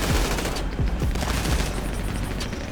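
Automatic gunfire in GTA Online, a dense, loud volley of rapid shots with heavy low thumps throughout a short burst, with no talking over it.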